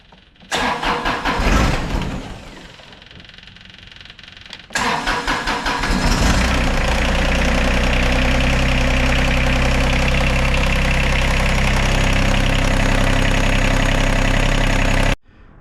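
John Deere 1025r tractor engine cranks over for a few seconds, catches with a loud roar, then settles into a steady, rumbling idle, close and alone.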